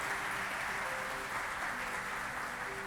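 A church congregation applauding, a dense, continuous wash of clapping from many hands heard at moderate distance throughout, with no talk over it.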